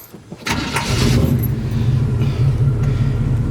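A 1986 GMC High Sierra short-bed step-side pickup cranks briefly and catches, then settles into a steady, deep, rumbling idle heard close up with no talking.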